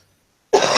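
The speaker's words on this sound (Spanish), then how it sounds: "además tengo tos" A single sharp, close cough bursts out after a moment of silence, loud and harsh, with no talking.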